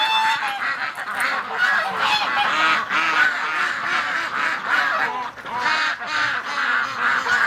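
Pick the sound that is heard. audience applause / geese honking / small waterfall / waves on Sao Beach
geese honking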